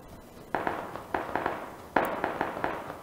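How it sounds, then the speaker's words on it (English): Gunshots in PUBG Battlegrounds near apartment buildings, several sharp cracks in two bursts, moderately loud and somewhat distant, with no talk over them. "Oh, we're heading towards the shooting."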